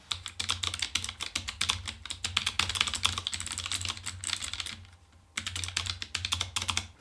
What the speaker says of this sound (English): a little typing test we can do for y'all to hear what this keyboard actually sounds like